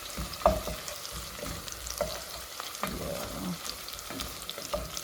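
Onions fry in a pan for pilau, giving a soft continuous sizzle with scattered scrapes and knocks of a spoon stirring them, close and fairly quiet, no voices.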